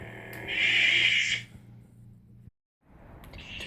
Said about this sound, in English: And then power down.